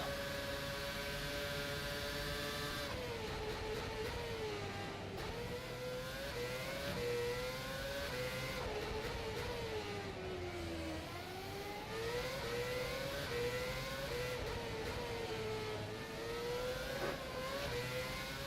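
A race car engine in the rFactor 2 racing game, on the Singapore circuit, revs up and down continuously, with loud steady whining sweeps that shift through gears for the whole stretch.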